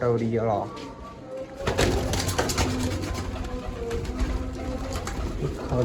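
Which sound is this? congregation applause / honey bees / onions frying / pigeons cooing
pigeons cooing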